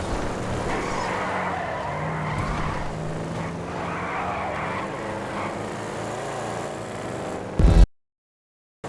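Bravado Buffalo tires skidding under hard braking in a video game, a steady continuous screech with engine drone lasting several seconds before cutting off abruptly.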